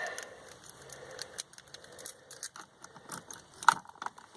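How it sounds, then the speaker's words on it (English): Keys jingle and clink as they are grabbed from the console of a Land Rover Series III, a run of close, light metallic rattles with one sharper clank near the end. "Just grab my keys out of the console here."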